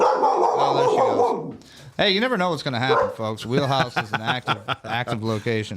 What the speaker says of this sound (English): Nope, that's the dog.